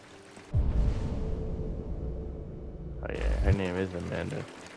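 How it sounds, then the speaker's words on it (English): Rain pours down in the video game Detroit: Become Human as a steady hiss that starts abruptly and holds for about three seconds, with a voice speaking over its final stretch. "What's up with all this rain and shit?"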